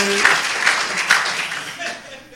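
An audience at a Hope & Serenity recovery group meeting applauds a member named Cliff, making a loud burst of clapping that fades out while voices talk over it.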